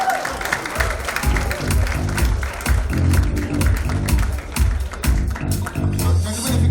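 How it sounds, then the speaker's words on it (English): Audience applause at a film promotion event with cast and crew being called on stage, sustained clapping with a crowd murmur under it and steady amplified music or voices mixed in, loud and continuous throughout. "Big round of applause, ladies and gentlemen."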